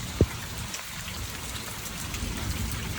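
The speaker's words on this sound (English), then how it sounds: "the rain is now picking up, and water is flowing across her property" Heavy rain falls steadily, a dense continuous wash of drops pouring down on a property with water running across the ground, constant and close with one sharp knock near the start.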